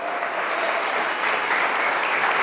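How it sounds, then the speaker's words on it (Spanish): A church congregation gives sustained, even applause to the Lord, a dense wash of clapping from many hands that swells slightly toward the end. "dale un fuerte aplauso al Señor"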